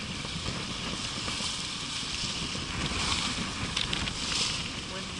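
Steady wind roar and wave wash aboard a Bristol 29 sloop sailing in whitecapped water on Buzzards Bay, with gusty swells in loudness throughout.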